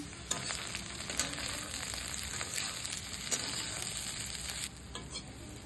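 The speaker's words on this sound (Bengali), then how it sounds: "দেখুন সুন্দর হয়ে ভাজা হচ্ছে।" Capsicum and other vegetables for fried rice sizzle loudly in a pan, with a continuous hiss broken by occasional scraping clicks as they are stirred.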